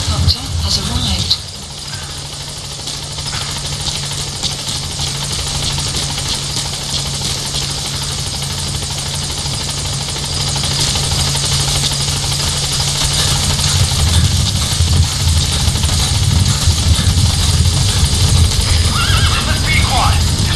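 A steady support helicopter rotor drone in Metal Gear Solid V: The Phantom Pain runs throughout, growing slightly louder toward the end, with a continuous low hum and mechanical whine beneath it.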